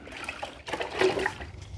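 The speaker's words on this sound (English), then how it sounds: "Now here I've got the mop. We're going to put it in there. Just kind of give the water a good mixing." An O-Cedar spin mop is plunged and swished through water in its bucket, giving a short burst of sloshing and trickling that swells in the middle and then eases off, with no voices.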